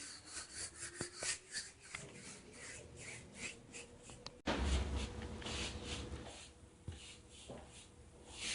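Rag rubbing stain off wooden stair steps in quick back-and-forth swipes, faint scratchy rubbing strokes in a loose rhythm with soft knocks against the wood.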